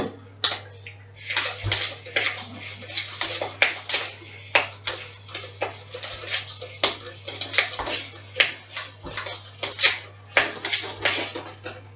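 Whisking cake batter for a marrow and apple cake in a bowl produces a brisk series of close, irregular wet clinks and sloshing taps, with a low steady hum underneath and no talking.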